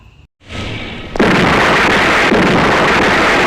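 A loud explosion tears through a drug factory in a film. After a brief silence a heavy blast swells up, then breaks into a sustained, roaring rumble that fills the rest of the moment.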